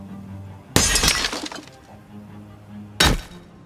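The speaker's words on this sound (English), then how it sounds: "The window broke." Car window glass shattering in the video game Project Zomboid, two sharp loud crashes with tinkling debris, the first longer, over a low steady game hum.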